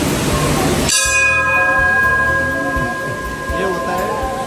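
A large bell at the BAPS Hindu temple in Abu Dhabi is struck once, loud and close, its metallic ring sustaining and slowly fading with a shimmering hum.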